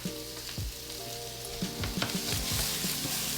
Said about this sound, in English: we got a nice little browning saute on that